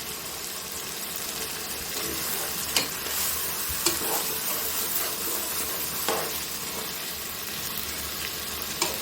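Chicken meat cooks in a pot for khichuri with a steady, close sizzle, and a spoon scrapes and stirs it at intervals, making a few sharp knocks against the pot.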